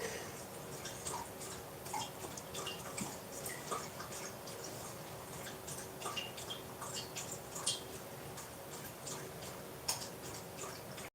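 Someone drinks water nearby, heard as a faint, irregular run of small wet clicks and drips over a quiet background hum, with no talking.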